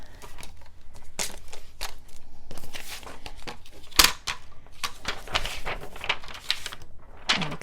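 Sparkly snowflake vellum paper being cut for a Christmas mini album, a run of crisp rustling snips and crinkles with a sharper click partway through, close and fairly quiet, no talking.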